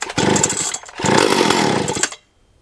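A ported Stihl chainsaw on choke sputters to life in two short loud bursts, revving briefly, stalling, then catching again before cutting out abruptly, close by and with no talking.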